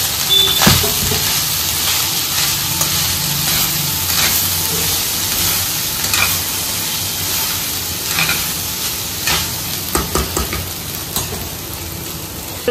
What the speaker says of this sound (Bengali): ভাতটা দিয়ে একটু নাড়াচাড়া করলে হয়ে যাবে।